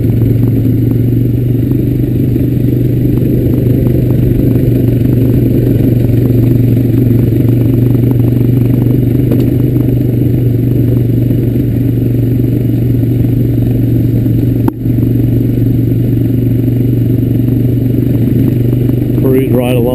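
A Honda Recon ES ATV cruises along a dirt trail in a high gear, its engine holding a steady, loud droning hum with constant rattling and clatter from the machine, interrupted by one brief sharp knock.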